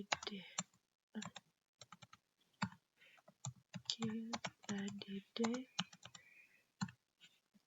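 Keys clacking on a computer keyboard during Python coding work, arriving in quick irregular bursts with short pauses, close and fairly quiet, with no talk.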